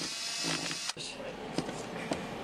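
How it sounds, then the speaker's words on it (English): A cordless drill driver unscrews a lock box in a CNC router workshop, whirring in short bursts with clicks and clatters between, heard close under a murky background with some talk. "grab the drill driver, and start unscrewing the lock box"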